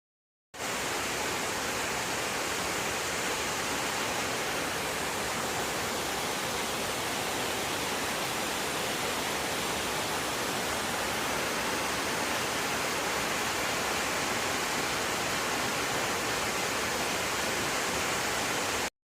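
A river rushes beside a small campsite near Laurel Fork Falls on the Appalachian Trail, a steady, full roar of moving water that runs unbroken and fairly loud throughout with no voices.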